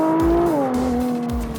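A 2017 Nissan GT-R engine drones loudly at close range, its pitch holding steady and then dropping as the revs fall away.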